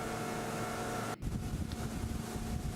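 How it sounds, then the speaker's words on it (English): A Hunt 24 motorboat with a Yanmar engine runs at about 24 knots, giving a loud, steady engine drone with rushing water and wind that briefly drops and then resumes. "You can hear the engine back off."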